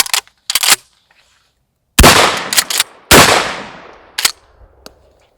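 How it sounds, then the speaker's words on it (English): A Winchester pump-action shotgun, a Model 12 or Model 25, fires several sharp, loud, close blasts, with a couple of faint early pops and a cluster of heavy booms, each followed by a decaying echo. "we'll run a couple of shots through."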